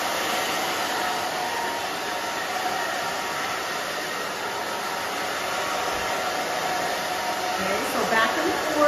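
A handheld blow dryer drying a short pixie cut, with a steady, loud broadband whoosh of air running continuously from start to finish with no break.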